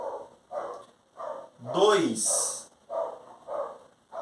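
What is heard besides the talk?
neighbour's dog barking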